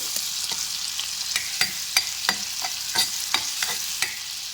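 Four or five cloves of garlic frying in oil in a pan, giving a steady bright sizzle broken by a series of sharp scraping stirs at a fairly even rhythm, close and moderately loud with no voices.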